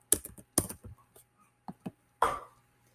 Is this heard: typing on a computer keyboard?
yes